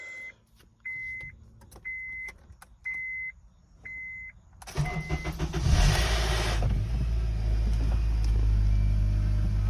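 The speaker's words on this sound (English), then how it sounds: "first start after the whole timing chain repair, and let's see how she goes." A run of five evenly spaced electronic beeps, then a Honda K24 car engine cranks and catches on its first start after a timing chain repair, settling into a loud, steady, rumbling idle.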